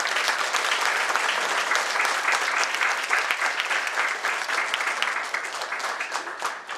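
An audience at a lecture and felicitation event breaks into steady, dense applause to welcome a speaker, a continuous wash of many hands clapping with no voices over it.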